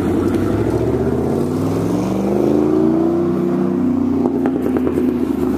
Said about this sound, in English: That was a truck. That was a loud truck.